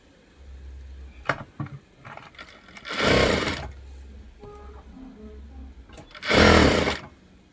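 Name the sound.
sewing machine stitching a blouse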